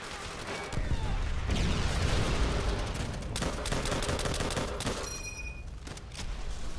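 M1 Garand rifle fire in the World at War campaign, a dense burst of overlapping shots and gunfire rattling for several seconds, then thinning into sparser cracks, loud and close.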